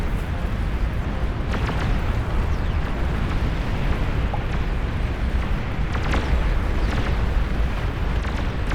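Artillery shells exploding continuously in the real-time strategy game Beyond All Reason during an 84-player battle, a dense, loud rumbling barrage with overlapping booms and no pauses.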